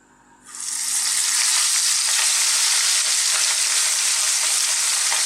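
Pieces of rohu fish hit hot mustard oil in a pan and burst into a loud, steady sizzle that holds evenly throughout, with no talking.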